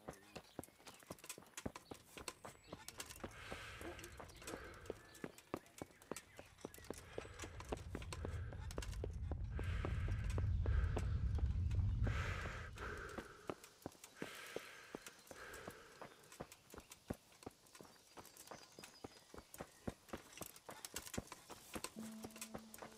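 Horses riding along with hooves clip-clopping in a brisk, steady rhythm, close and clear, with a low rumbling swell building in the middle before easing off; no talking.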